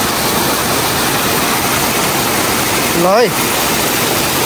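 Water pours steadily from a spring-fed drinking-water source in Lamjung built by volunteer labour, a constant broadband rush that stays even throughout, with a brief voice speaking near the end.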